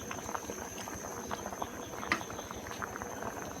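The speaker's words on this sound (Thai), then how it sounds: "เดือดปุดๆเลยครับ" A pot of Thai curry made with young sugar palm and bamboo-grass leaf water, with grilled fish, boils hard. It gives off a steady, close bubbling and popping with no pauses, and no one speaks over it.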